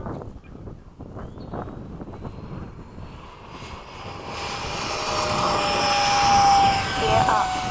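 A Hobby King Skysword 70mm electric ducted-fan model jet running on 6s power at a flying field, its whine building into a loud rising roar as it takes off, with brief talk early on.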